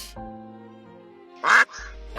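A single loud, harsh honking call from a goose bursts out briefly in the middle, with quiet background before and after.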